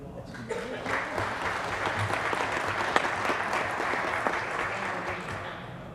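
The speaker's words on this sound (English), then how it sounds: "All right, Cam, let's give Cam a round of applause." A room full of people at a city council meeting applauding, steady clapping that holds for several seconds with voices mixed in beneath.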